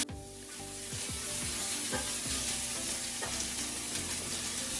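Red pepper and ginger slices sizzle in about three tablespoons of hot cooking oil in a skillet over high heat, a steady moderate hiss with repeated soft stirring scrapes, no talking.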